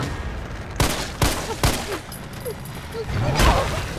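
Gunfire in the Resident Evil 3 Remake video game: several sharp, loud single shots spaced roughly half a second apart, close and echoing, with a low rumbling game backdrop.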